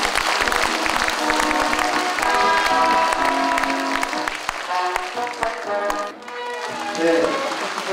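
Applause and cheering at a farewell ceremony for the departing Mungyeong mayor, sustained clapping blended with background music and voices, holding steady throughout.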